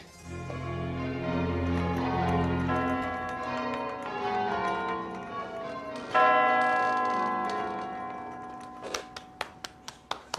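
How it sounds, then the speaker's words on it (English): Church bells of St. Thomas's Church, Salisbury, ring in a dense overlapping peal that is loud and close, then thin out into a few sharp separate strikes near the end. "These bells have been calling Christians to prayer for centuries."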